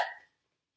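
A single short hiccup-like gasp made by a voice imitating a cartoon penguin's hiccup after eating spicy tacos, sharp and close, fading out within a fraction of a second into silence.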